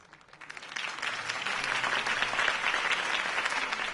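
Applause in Batman: The Telltale Series swells up from quiet to a full, sustained crowd clapping that holds steady and fairly loud to the end.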